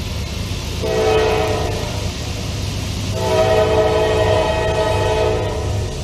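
A mixed freight train led by an AC44C6M locomotive, followed by a Dash 9 and a GEVO, rolls past with a steady loud rumble while its horn sounds two long blasts.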